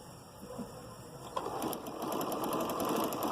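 Close sewing machine stitching black piping onto a shirt, a steady rapid mechanical whir that starts softly and settles into a continuous hum, with no talk.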